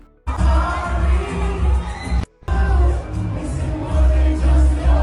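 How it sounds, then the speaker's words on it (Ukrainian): A large concert crowd roars and sings loudly in a continuous wash of voices, broken by a brief cut to silence before the noise resumes. "йому повезло, що натовп співав дуже голосно, його перекрикував"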